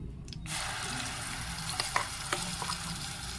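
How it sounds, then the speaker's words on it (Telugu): Steady sizzling of tempering spices frying in hot oil, with a few soft clinks and scrapes of a spoon stirring the pan; no one speaks. "మేము పోపు అయితే వేసుకుంటున్నాం."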